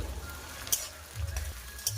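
Shrimp frying in hot oil with chopped onions sizzles quietly and steadily, broken by a few sharp clinks and low scraping stirs of a spoon against the pan.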